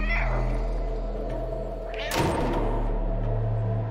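A cat meows in the video game Stray, a short game-character cry near the start over steady background game sound, followed by a thump and a burst of broadband noise midway.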